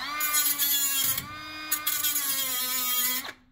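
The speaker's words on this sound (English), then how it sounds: "I literally have a battery-powered cutoff tool here. So I can carefully grind off the ruined bits of nut" A battery-powered cutoff tool whines steadily as it grinds away a damaged nut during a 1964 Plymouth Fury engine swap, its high-pitched tone dipping briefly under load, close and loud, then cutting off abruptly near the end.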